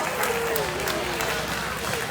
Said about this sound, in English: Let's give those guys a big round of applause as we do.